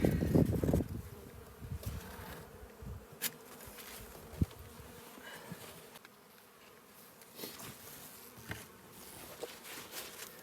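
Honeybees buzzing around an open hive during an early-season inspection, a steady droning hum close by with occasional louder passes and light knocks of handling, with no talking.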